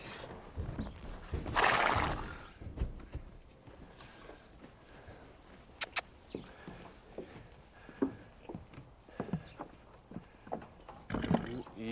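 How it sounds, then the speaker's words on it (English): A horse whinnies loudly, followed by scattered hoof clops on the ground and other stable sounds, with people talking softly. "He's just too much horse for Ben."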